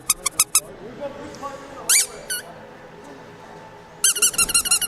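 Squeaky toy squealing at a Tiny Whoop drone racing qualifier, with quick bursts of several high squeaks at the start, single squeaks near the middle and a rapid run at the end, over steady background chatter.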